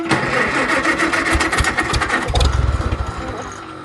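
A small engine fitted with a new Chinese-made carburetor coughs and fires briefly on choke, loud, ragged popping bursts that strengthen near the end of a short close-up take.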